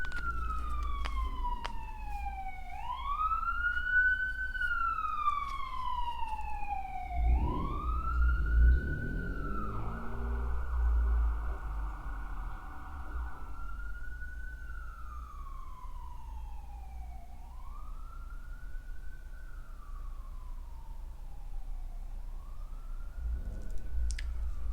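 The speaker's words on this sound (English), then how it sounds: "let me wait for these sirens to pass" Emergency vehicle sirens pass by on a street, wailing in long rising and falling sweeps, loud at first and then fading into the distance over a low traffic rumble.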